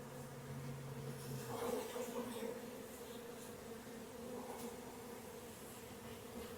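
Steady, soft hum of many honey bees buzzing together, a low sustained drone with slight swells and no talking.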